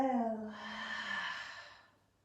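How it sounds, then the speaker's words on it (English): A deep, slow exhale during yoga breathing, one long close breath that starts full and airy and then fades out over about two seconds. "take a big breath round together. Inhale for 1. And exhale."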